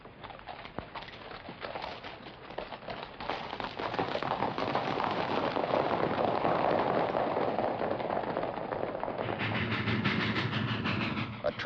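A train rumbles steadily along the rails, the rolling noise swelling louder and closer midway, with rhythmic clatter and no talking.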